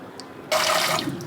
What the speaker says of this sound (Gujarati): માં ઉપરથી ઠંડુ પાણી થોડું રેડી દેવાનું